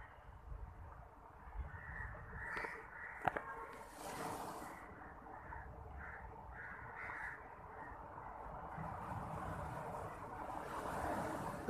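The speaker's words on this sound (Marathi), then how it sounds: "भरपूर पक्ष्यांचा आवाज आहे." Birds, mostly crows, caw repeatedly at a seashore. Their calls are scattered, some near and some farther off, over a low continuous rumble of background noise.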